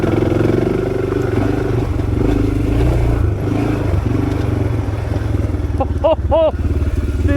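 A motorcycle with worn bearings rumbles loudly and steadily along a dirt trail side route, its engine droning close with clatter from the rough ground and a short burst of a whistling sound near the end.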